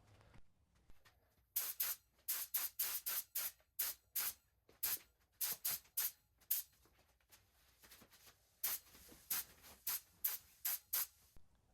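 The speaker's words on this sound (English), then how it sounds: "That way I can spray up underneath, and then it also does not dry to the table." Spray paint hisses from a can onto pumpkin decorations in bursts, roughly two dozen short, sharp sprays in an uneven rhythm with brief pauses between, close and clear with no talking.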